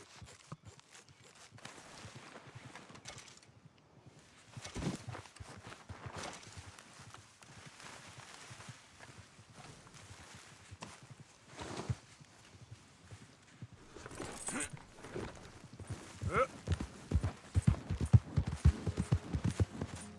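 Faint, steady clip-clop of horse hooves trotting in the video game Red Dead Redemption 2, growing busier and louder toward the end.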